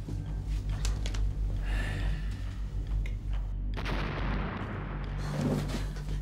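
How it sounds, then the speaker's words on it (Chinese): Artillery fire in a Chinese war drama set around 1949, heard as repeated deep, rumbling booms in the distance rolling over a low background, with no speech. "这又是哪里来的炮声啊？"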